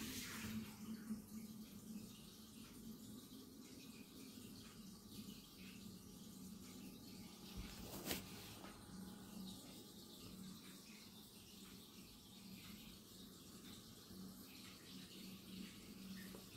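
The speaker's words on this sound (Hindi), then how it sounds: "अभी वाटर ड्रेन हो रहा है, देखिए वाटर ड्रेन हो रहा है" Water drains steadily from an IFB washing machine during a blanket wash, a quiet continuous gurgling rush with a faint trickle, indoors and without talk.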